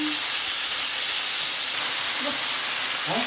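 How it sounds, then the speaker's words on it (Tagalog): Chopped tomatoes stirred into a hot pan for ginisang ampalaya, giving a steady loud sizzling hiss that holds throughout, with faint scraping of the spoon near the end. "Nalagay na natin yung kamatis. Halo-halo yan."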